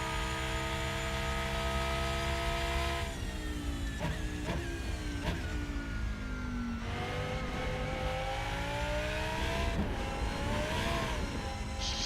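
An Audi R8 engine over-revving in the Rennsport racing game at Monza, a loud sustained high-pitched engine whine rising and falling through gear changes, steady throughout with no talking.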